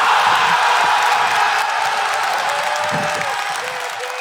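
Crowd applauding and cheering at a live Tetris competition, a loud, dense wash of clapping and shouts that holds steady and tapers slightly toward the end.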